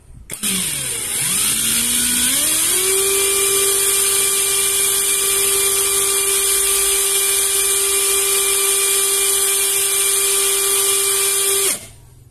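Mustool impact wrench spinning up and holding top speed during a test, a loud close whine that rises in pitch over the first few seconds, stays steady, then cuts off abruptly near the end.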